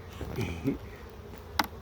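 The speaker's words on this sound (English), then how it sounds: "There is so many bees in this hive." Honeybees in a crowded hive opened for a late-winter inspection give off a faint, low buzz, broken by a few brief knocks and clicks.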